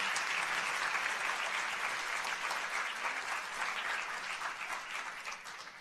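An audience at the One Book, One Philadelphia grand finale gives author Christina Baker Kline a round of applause, a dense, sustained wash of many hands clapping that fades slightly toward the end.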